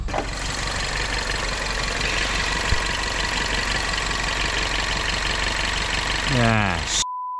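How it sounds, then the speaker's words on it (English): Van engine idling with a diesel-like clatter, a steady, loud mechanical chug that continues unchanged until it winds down and cuts off abruptly near the end. "sound like a diesel."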